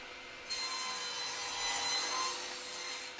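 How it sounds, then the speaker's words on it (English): A saw cuts a small wooden test tenon in one steady, continuous rasping stroke that starts abruptly and carries on to the end, close and alone with no voices. "Now let's just cut out a quick test tenon to make sure it's all good."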